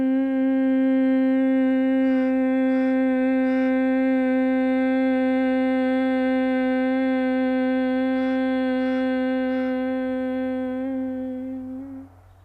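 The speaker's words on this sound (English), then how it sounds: "and as we breathe out, we hum." Humming exhale of bumblebee breathing (bhramari pranayama), one long steady voiced hum held close and loud for about twelve seconds before tapering off.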